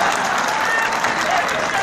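A crowd applauds at an outdoor political rally in Darbhanga, Bihar. Dense, continuous clapping and crowd noise fill the short stretch at a steady, loud level.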